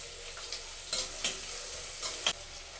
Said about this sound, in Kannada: ಸ್ವಲ್ಪ ಈರುಳ್ಳಿ ಫ್ರೈ ಆಗಲಿ.